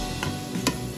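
Red peppers are sautéed in a pan over medium-low heat for pansit: a soft, steady sizzle with two brief stirring scrapes, close and alone.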